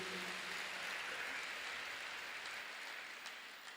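Korean church congregation clapping together during a worship service, a soft, steady wash of applause that gradually thins toward the end.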